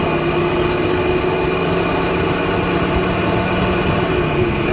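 A 1979 Oldsmobile W30 with its original 350 engine and automatic transmission drives along with a steady, loud engine drone and road noise. A gear change into third passes almost seamlessly, with no talking.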